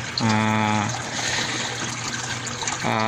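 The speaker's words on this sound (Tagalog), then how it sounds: "So hihigupin siya ng pump, padalhin niya sa ibabaw, babagsak niya doon sa mechanical chamber" Water from an aquarium pump falling into the mechanical filter chamber of a DIY filtration setup, a constant close splashing rush, with a low humming tone rising over it near the start and again at the end.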